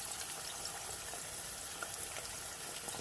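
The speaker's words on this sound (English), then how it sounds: "the grease will cool down as you put the french fries in, and then it'll heat back up again" French fries fry in hot grease on a stove, giving a steady, close crackling sizzle with scattered small pops throughout and no talking.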